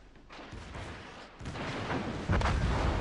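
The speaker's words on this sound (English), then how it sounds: "Let's see if I get those guns loaded up before I lose all my health here." Heavy naval guns of a battleship, the Agincourt, fire in World of Warships, booming in repeated close, loud blasts that roll into a continuous rumble of gunfire, alone without talk.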